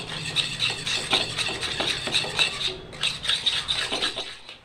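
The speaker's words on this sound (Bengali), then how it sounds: "আমি ভালো করে ফেটিয়ে নিতে হবে চিনির সঙ্গে ডিম দিয়ে।" Eggs and sugar beaten together in a bowl for a sponge cake, with a steady, rapid scraping and clinking whisk rhythm that pauses briefly midway before resuming.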